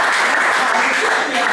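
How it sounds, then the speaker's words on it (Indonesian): A seated audience at a talk for agents breaks into brief applause, a short, loud burst of clapping that blends with murmuring voices. "Nah, tepuk tangan dong, luar biasa ya."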